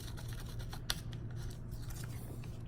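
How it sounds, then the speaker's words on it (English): Scissors snipping through a paper doily while scrapbooking, a few quick, crisp cuts and rustles close by, with one sharper snip standing out over a low background hum. "Just cut it here and see."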